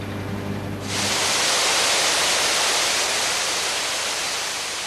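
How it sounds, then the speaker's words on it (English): Water pours down inside a power station cooling tower by the River Severn, a dense, steady roar that starts abruptly and then holds constant and loud. "most of the cooled water that falls through these cooling towers is pumped round and used again"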